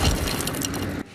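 A 6-ton concrete parking structure slab crushing cars, heard as a dense, loud roar of crunching and breaking that cuts off abruptly.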